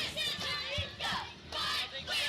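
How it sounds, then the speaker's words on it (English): High school football cheerleaders chanting right beside the microphone, rhythmic group voices rising and falling in repeated short phrases over roughly two seconds. "we got the cheerleaders right by our mic"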